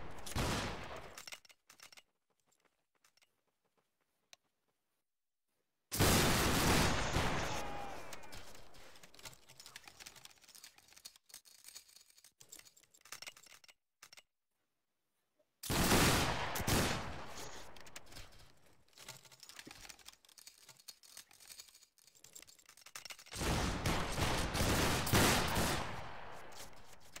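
Musket volley fire in the Battlegrounds 3 game during a line battle: two long, loud bursts of overlapping crackling shots, each erupting suddenly after near silence and then rolling on for several seconds.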